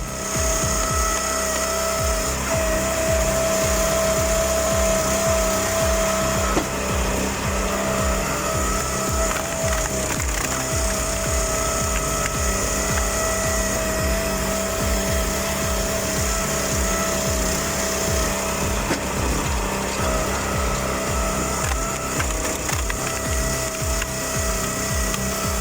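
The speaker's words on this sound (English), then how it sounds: "The piston drives forward, the wedge bites deep, and in seconds, stubborn birch explodes into 8 neat pieces." A Black Splitter S2630 hydraulic firewood processor on a Vermeer S750TX loader splits birch logs, producing a loud, continuous mechanical roar with repeated cracking, crunching wood and rhythmic thumps throughout.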